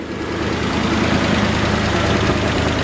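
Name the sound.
old truck engine idling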